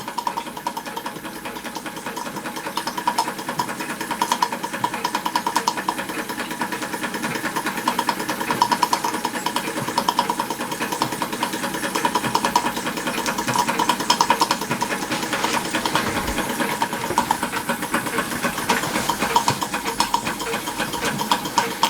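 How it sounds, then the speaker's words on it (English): A Stirlingkit Retrol SE-02 model steam engine drives a small Empire pump, a steady rapid mechanical chuffing and ticking with a continuous whirring hum, close and even throughout. "the little Empire pump works a treat"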